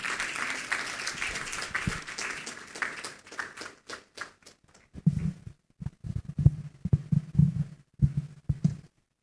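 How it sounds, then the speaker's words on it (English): An audience at a Ghanaian financial conference applauds to welcome a company CEO. Full clapping for about four seconds thins into scattered, uneven claps before stopping. "Please, a round of applause for him."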